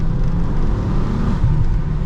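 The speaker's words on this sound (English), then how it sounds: "Because I've got the sound that I love, like a 5-cylinder soundtrack." Ex-police Volvo T5 with a five-cylinder engine driving along, a steady low engine hum and road rumble with a slight swell in revs, heard from inside the car without talk.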